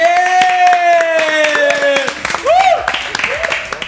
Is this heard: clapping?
yes